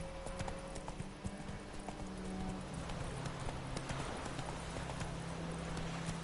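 Roach, the horse in The Witcher 3, gallops with rapid, rhythmic hoof clip-clops that run on steadily over a low ambient game backdrop.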